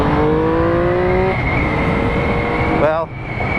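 A 2016 Triumph Speed Triple R motorcycle engine pulls hard on the road, its pitch climbing through the gears with brief drops at each shift, under heavy, constant wind roar.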